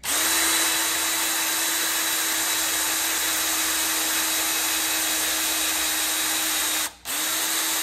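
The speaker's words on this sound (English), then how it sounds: "you don't want to drill too deep" A power drill boring a hole into a motorcycle drag bar for an Indian Scout Bobber, a loud steady whine running continuously with one brief dip near the end.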